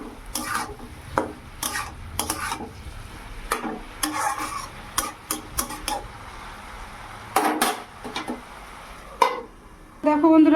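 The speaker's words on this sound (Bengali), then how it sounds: "তারপরে দেখো আবার চাপালাম বাঁধাকপি ভাজা করব।" Cabbage frying in a pan on a home stove, with a low steady sizzle under repeated scraping and clattering stirs of a utensil against the pan, close and fairly loud.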